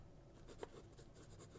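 A pen with a dried-up nib being written with: faint, soft scratching strokes on paper, close and quiet, in a short run of small rhythmic scrapes with no talking.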